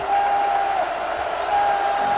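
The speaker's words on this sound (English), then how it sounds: "Tiger crowd here on this wet day making noise." Tiger football crowd noise in a stadium on a wet day, a steady wash of distant cheering and murmur with a thin whistle-like tone drifting through it.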